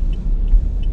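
Rush-hour road traffic in Cavite, a loud close rumble of car and bus engines idling and creeping along with a few faint high squeaks, no voices.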